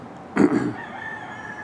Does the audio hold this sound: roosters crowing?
yes